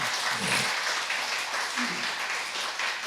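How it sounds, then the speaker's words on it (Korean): In a Sunday worship service at church, the congregation gives a round of applause to welcome a new sister joining the youth group, a fairly quiet, continuous patter of clapping. "우리 박수 한번 보내주시기 바랍니다"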